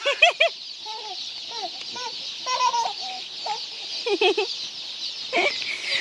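Chickens at a poultry farm cluck and chatter in short, scattered calls, several birds close by over a steady background hiss, with no talking.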